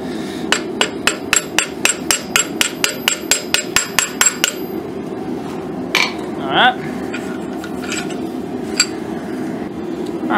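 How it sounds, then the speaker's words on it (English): A hammer rings steadily on a rail spring clip blade being forged into a katana, a rapid run of about fifteen bright metallic strikes followed by a pause, a scrape and a few scattered blows, all close and loud. "Then I go back with a hammer."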